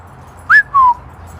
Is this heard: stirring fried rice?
no